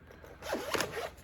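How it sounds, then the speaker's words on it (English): Zipper on a small bag holding an RJ45 crimp tool kit, pulled in one quick, close, rasping stroke of about a second. "Comes in a nice little zipper bag."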